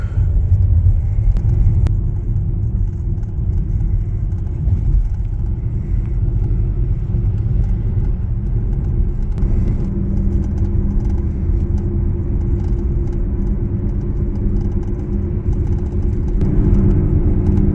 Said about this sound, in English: All the trucks are in traffic in town now.